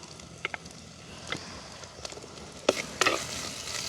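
Onion, green chili, crushed garlic and ginger sauté in a pan, giving a soft steady sizzle under scattered clicks and scrapes of stirring, with a few sharper knocks near the end.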